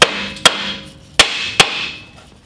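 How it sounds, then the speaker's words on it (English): A hammer strikes metal four times at uneven intervals during preparation work on a VW Thing Type 181. Each blow is loud and close, with a sharp crack and a brief metallic ring that fades before the next. "We're gonna need a bigger hammer."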